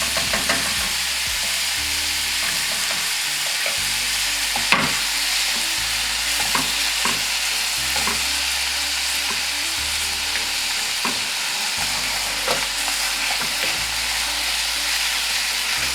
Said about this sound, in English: I'm gonna actually turn the heat up for the onions a little bit while those saute.